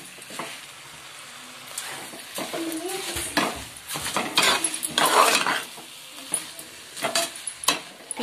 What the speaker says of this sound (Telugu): ఒక 5 నిమిషాలు ఫ్రై అయితే అవనిద్దాం.